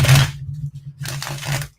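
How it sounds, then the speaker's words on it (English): Tarot cards are shuffled by hand in two quick riffling bursts separated by a brief pause, close and fairly loud, with no talking. "Okay, one more shuffle and we're good."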